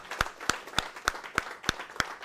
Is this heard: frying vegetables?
no